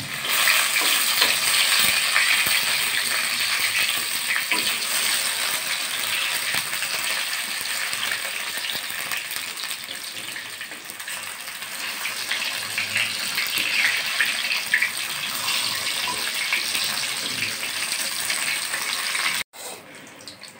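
Masala eggplant (begun) slices frying in hot oil, a steady loud hiss and crackle that continues without pause, then stops abruptly near the end.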